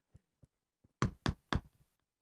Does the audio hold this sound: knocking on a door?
yes